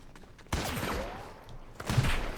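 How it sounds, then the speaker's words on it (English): Gunfire aimed at a player in Fortnite, a couple of sharp bursts of shots with a whizzing trail between them, fairly close and heard without talk. "he's going to keep his reticle dead on me. And then he's going to try and shoot"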